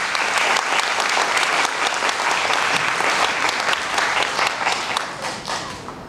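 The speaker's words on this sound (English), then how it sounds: "can you please help me give everybody here a big round of applause for our parents?" Steady, dense applause from a large audience at a children's music performance showcase in a grand hall, loud and continuous throughout before easing slightly at the end.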